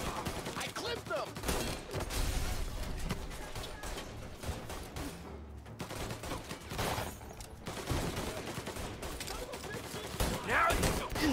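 Scattered gunshots and bursts of fire in Mafia: Definitive Edition, moderately loud amid a busy game mix, with irregular volleys throughout.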